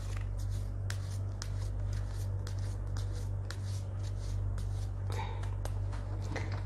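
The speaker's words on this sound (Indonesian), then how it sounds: "saya akan kocok kartu tarot ini sambil terpejam" Tarot cards are shuffled by hand in quick, repeated riffling bursts, near and fairly clear over a steady low hum.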